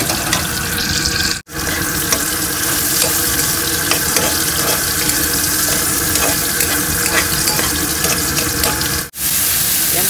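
Steady tap water runs into a sink while a sweet and sour lapu-lapu dish is being cooked in a kitchen, a continuous close rushing flow broken twice by brief cutoffs, with no talking.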